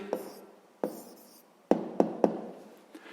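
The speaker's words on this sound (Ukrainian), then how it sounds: "записуємо відповідь" A pen writes an answer on paper by hand, giving soft scratchy strokes broken by several sharp taps, one pair coming in quick succession, with faint scribbling in the gaps.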